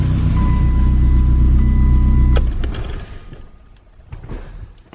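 A BMW E30 M3 engine, cold, runs as a loud, steady, deep rumble close by for about two seconds, then cuts off abruptly. A few sharp clicks and quieter mechanical knocks follow. No one speaks.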